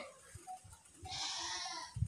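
Goats on a goat farm, with a short bleat heard over soft rustling and muffled knocks, fairly quiet and close.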